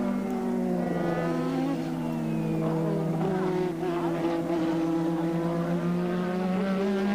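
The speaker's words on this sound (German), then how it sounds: "jetzt hört man es deutlich, dass er früh hochschaltet" A 1987 Formula 1 car at the Japanese Grand Prix at Suzuka, engine shifting up early, its high whining note climbing and dropping through gears, steady and fairly loud throughout.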